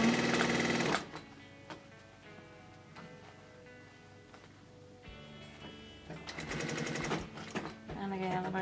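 A sewing machine stitches across a seam on a pleated fabric face mask in loud, rapid bursts, running hard at the start, pausing while a voice talks, then starting again in short runs near the end.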